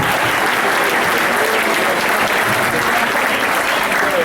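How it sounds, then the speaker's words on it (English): Gala audience applauding committee members at a temple event, a loud sustained roar of clapping from a large crowd throughout. "Please join me in a round of applause."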